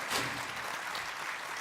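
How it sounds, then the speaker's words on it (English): Audience applause at the Book Brahma Literature Festival after a flute performance, a dense wash of clapping heard at a distance, fairly faint and even throughout a short burst. "once again, a big round of applause"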